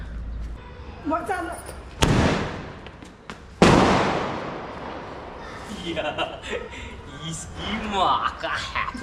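Two sharp, loud firecracker blasts during Diwali go off a couple of seconds apart, each trailing into a crackling rumble, with people talking before and after.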